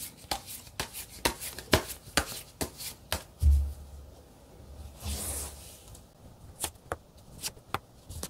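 Tarot cards shuffled and dealt by hand, a run of sharp crisp riffles and slaps at an uneven pace, close and fairly quiet, with a brief soft whooshing spread midway.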